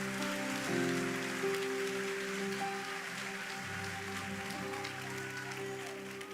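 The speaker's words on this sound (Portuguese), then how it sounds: "Aplauda com todas as suas forças" A church congregation applauding, a dense crackling wash of clapping sustained throughout, with sustained organ or keyboard chords ringing underneath.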